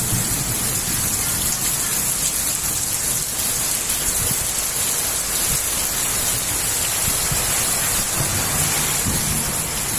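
Heavy rain pours steadily during a thunderstorm in Halishahar, Chattogram, a dense, continuous roar of drops on surfaces with gusting wind, filling the whole stretch at close range and loud, with no talking.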